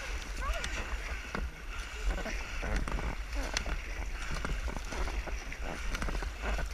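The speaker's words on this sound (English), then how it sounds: "Dig your paddle in deeper." Paddles dig into the water during a rowing boat race at Pentewan, with rhythmic splashing strokes and sloshing water close by, under ongoing voices calling out.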